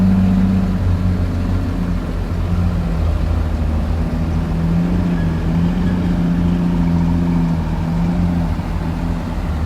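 Isuzu six-cylinder direct-injection diesel engine in an excavator idling at a worksite, a steady low rumble with a constant hum and no pauses, loud and close throughout.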